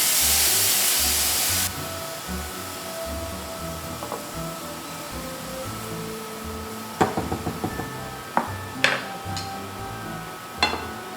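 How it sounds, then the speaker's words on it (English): Finely chopped onion and three cloves of garlic sizzle in two tablespoons of olive oil, a steady loud hiss that settles into softer frying crackle, with a few sharp utensil clicks and knocks near the end. "So we'll saute those onions."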